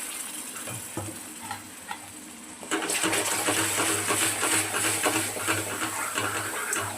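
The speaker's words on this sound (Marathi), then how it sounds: "आपल्याला हे तेलात असे एकदम छान असून परतून घ्यावं लागेल आपण छान असे परतून घ्यायचे" Mutton masala paste with ground poppy seed and coconut, coriander powder and red chilli, sautéed in hot oil in a village-style kitchen; a soft sizzle grows louder partway through and continues steadily with scraping stir strokes.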